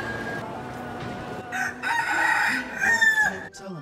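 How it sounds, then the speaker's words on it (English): A rooster crows inside Batu Caves in Kuala Lumpur, Malaysia, giving one loud drawn-out cock-a-doodle-doo that echoes over a low cave hum. "What's a rooster doing in here?"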